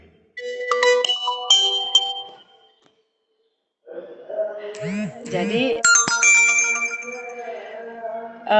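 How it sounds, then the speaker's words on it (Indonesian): Mobile phone ringtone chiming in melodic tonal phrases during a Zoom call, clear and close, with a pause between bursts and a brief voice under the second burst. "ini telepon yang nggak pernah lagi Zoom kayak gini yang nggak pernah nelepon pun jadi nelepon"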